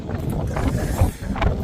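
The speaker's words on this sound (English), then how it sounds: "It's windy." Wind buffets an outdoor microphone in continuous low, rumbling gusts that swell and dip, with no other clear sound.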